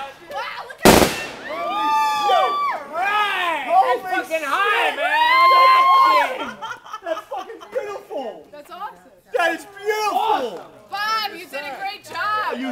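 One sharp, loud firework explodes outdoors near the start, followed by people nearby talking, laughing and exclaiming for the rest of the stretch.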